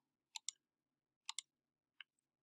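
A computer mouse clicks crisply up close, in two quick pairs followed by one lighter single click, against near silence.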